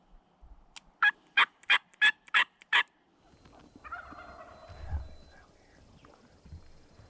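A wild turkey strutting close by lets out a rapid string of about six loud gobbling notes, followed by quieter rustling and low thumps.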